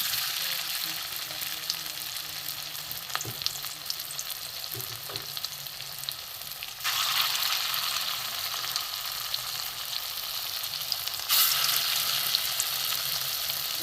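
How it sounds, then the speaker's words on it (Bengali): Flattened fritters of masoor lentil, potato and egg fry in plenty of oil, a dense continuous sizzle that jumps louder twice as fresh batter hits the pan, with no talking. "এখানে যে মুসুর ডাল, আলু, ডিমের যে মিশ্রণ মশলা দিয়ে আমি একটু ভেজে নেব।"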